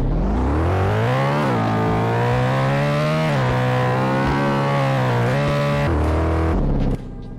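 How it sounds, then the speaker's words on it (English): A Ferrari engine in the racing game Car Dealership Tycoon revs loudly and steadily for about seven seconds, its pitch climbing and dipping with the throttle before cutting off abruptly near the end. "it's a pretty average Ferrari sound for the game"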